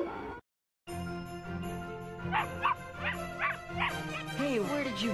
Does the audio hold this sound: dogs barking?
yes